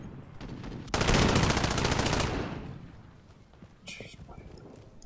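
Gunfire in the video game Call of Duty: Modern Warfare: one loud, fast automatic burst lasts just over a second, then trails off, with fainter scattered shots and game noise around it.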